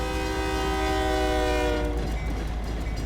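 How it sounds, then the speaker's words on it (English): A train in a trucking video game rolls past close by, its horn sounding as a loud sustained chord over a heavy rumble before the horn cuts off and the rolling noise continues. "Let that train go by."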